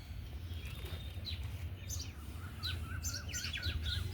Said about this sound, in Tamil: குருவிகள் சவுண்டு தான்.